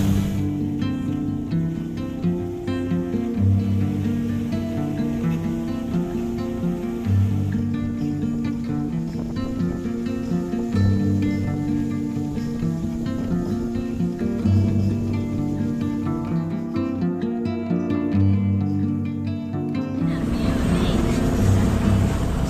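Motorboat crossing Pevensey Bay at sea on a blustery day, rolling in the swell: a steady, loud engine drone with a low rumble and wind noise running throughout, ending in a brighter rush of wind and water.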